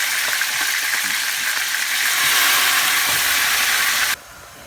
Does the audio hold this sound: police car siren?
no